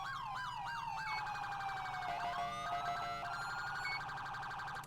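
Police car sirens in a video game, a wailing primary tone switching to a secondary yelp pattern, loud and continuous with overlapping sweeping wails throughout.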